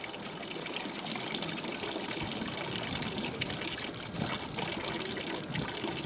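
Water runs steadily from a tap in a Nepali mountain village, a continuous close splashing trickle with no pauses.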